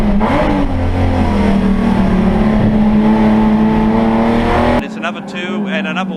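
Saloon race cars roar around Phillip Island Raceway, a loud close engine note rising and holding as a car passes, with commentary running over it before the sound cuts to a quieter track ambience.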